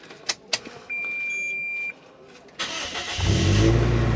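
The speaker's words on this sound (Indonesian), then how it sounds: "kita akan nyalain lagi mesinnya" A Toyota Innova engine cranks on a super-capacitor starter: a few clicks and a short beep, then a brief whirring crank before the engine catches and a low rumble swells up.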